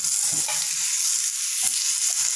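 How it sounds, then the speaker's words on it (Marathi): Chopped boiled potatoes stirred into a frying vegetable dish, a bright continuous sizzle close up with soft scraping strokes of a spoon against the pan at irregular moments, no speech. "आता आपण यामध्ये कट केलेले बटाटे देखील ॲड करूयात आणि व्यवस्थित मिक्स करून घेऊयात"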